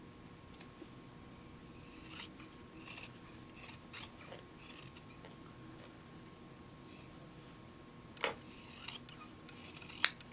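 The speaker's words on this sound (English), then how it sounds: "I'm cutting 1/4 of an inch, and I'm angling at the corners just to make it a little easier to turn" Scissors snipping fabric close around embroidery stitching on a mug rug, a series of quiet, separate crisp cuts with pauses between them and a sharper snip near the end.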